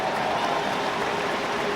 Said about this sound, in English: Special round of applause for Mick.